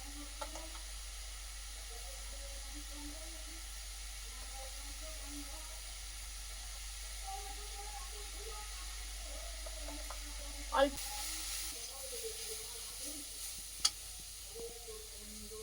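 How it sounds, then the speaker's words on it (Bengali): Cabbage frying in a pan with turmeric and salt makes a quiet, steady low hiss over a constant hum, broken by a couple of faint clicks. "বাঁধাকপিটা তো বসিয়ে দিয়েছি আর একটু হলুদ আর লবণ দিয়ে দেব দিয়ে আর ভেজে নেবো"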